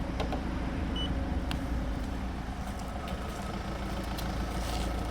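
A steady, low diesel engine idle from a 2008 Seat Altea XL 1.9 TDI 105 hp rumbles continuously with a constant drone and no speech.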